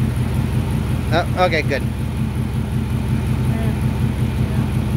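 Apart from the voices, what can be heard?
4.6 Mustang GT engine idling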